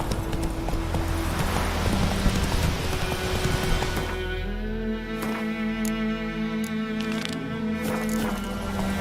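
Horse galloping in The Witcher 3, rapid rhythmic hoofbeats under a bright, noisy wash that shifts midway into a calmer stretch with steady tones and scattered sharp clicks.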